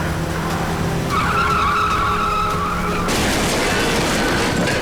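A car skids hard with a long, high tire squeal, then a loud crash-like burst of rough noise as the skid ends, loud and close with no talking.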